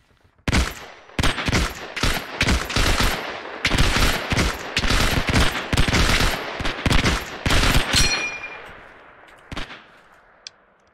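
Rapid automatic gunfire in the World War II shooter Hell Let Loose, loud close bursts of machine-gun fire repeating for several seconds before trailing off into quieter scattered shots.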